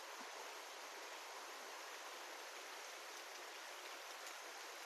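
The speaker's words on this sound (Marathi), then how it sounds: "पाऊस आता चालू झालेला आहे" Heavy rain falls as a steady, even hiss with no breaks, soft and distant throughout, with no voices or other sounds.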